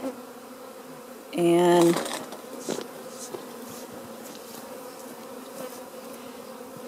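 Honey bees in a swarm buzz steadily around a vacuum box fitted with frames, with a loud burst of mechanical whine near the start, then a continuous low buzz and a brief spoken word.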